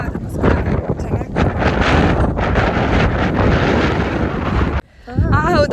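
Strong wind roars continuously across a microphone on Kunagalu hill near Ramanagar, a loud, steady buffeting with a brief drop near the end, where a voice briefly sounds.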